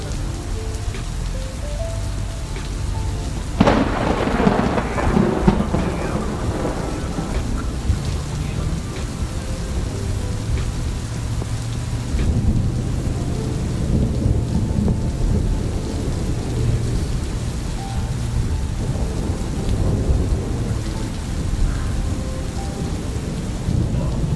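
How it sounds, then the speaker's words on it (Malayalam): Heavy night rain pours down in Qatar, a constant close hiss, while a sharp crack of thunder breaks early and then rolls and grumbles away under the downpour. "നല്ല മഴയുള്ള രാത്രി ഇടിമിന്നലോട്ടുള്ള മഴ ഖത്തറിൽ"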